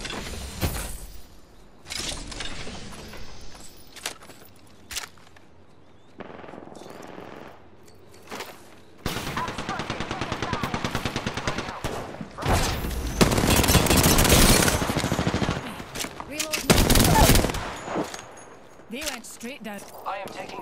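Gunfire in the Apex Legends video game: bursts of automatic weapon fire and impacts come in several loud stretches, separated by quieter gaps, with game voice lines in between.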